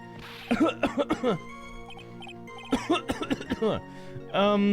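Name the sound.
fake cough in a video game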